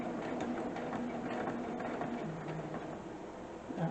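A sewing machine stitches and back stitches a T-shirt dress, making a quiet, continuous mechanical whir with a steady running texture and a small bump near the end.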